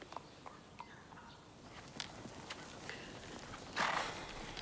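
A horse walks around an indoor riding arena, its hooves clip-clopping in a steady, unhurried rhythm at moderate distance, with a brief louder rustle near the end and no talk over it.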